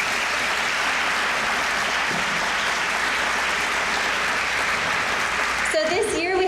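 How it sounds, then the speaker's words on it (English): Summer interns in a room at an end-of-summer celebration applaud with dense, steady clapping that stays loud throughout, and a voice breaks in near the end. "Let's give yourselves a round of applause."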